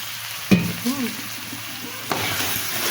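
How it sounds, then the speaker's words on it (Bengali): Rice and pointed gourd being stirred as they fry in a pot for a vegetarian pulao, giving a soft sizzle with a couple of sharp scraping knocks of the utensil, close and steady. "একটু নাড়াচাড়া করে নিই"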